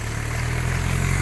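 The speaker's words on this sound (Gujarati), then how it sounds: "આખરે પેલું આવે ટ્રેક્ટર" A tractor's engine drones steadily as it passes along a rain-flooded road, a close, loud, continuous low rumble with no talk.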